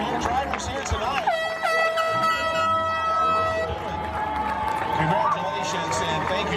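A loud air horn blast at a bone stock class demolition derby in Hernando County, a long steady tone held for about two seconds over a noisy crowd and announcer talk.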